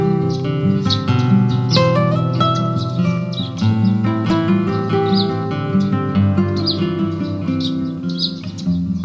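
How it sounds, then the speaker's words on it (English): Birds chirp and sing around a countryside vegetable plot, bright repeated tweets and short trills rising over a fuller tonal background, steady throughout. "the only sounds are the gentle rustling of leaves and the chirping of birds"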